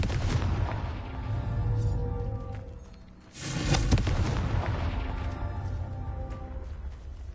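A Confringo explosive spell cast in Hogwarts Legacy, heard as a loud, sustained rumbling blast with a brief dip before a second heavy burst that rolls on to the end.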